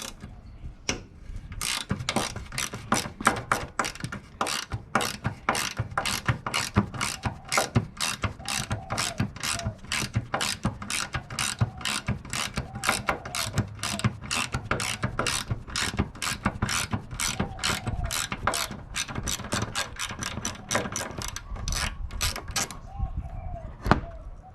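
A ratchet wrench clicks rapidly and steadily while removing brackets from the radiator of a 2009 Nissan Frontier SE, a dense run of close, crisp ratcheting strokes lasting throughout with only brief pauses.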